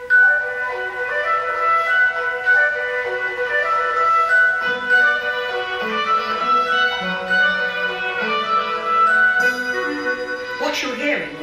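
An orchestral piece composed by an artificial intelligence system plays continuously with sustained melodic lines and layered harmonies at a steady moderate level, swelling slightly near the end, with no talking over it.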